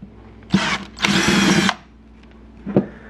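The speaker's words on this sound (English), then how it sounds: "we have a 13/64 drill bit now, a little bit bigger" A power drill with a 13/64 bit drills out a rivet on a 2014 GSXR 750 exhaust canister, whining in two bursts, a short one then a longer sustained grind, followed by a brief third blip; close and loud with no talking.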